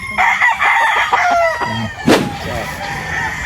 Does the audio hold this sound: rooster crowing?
yes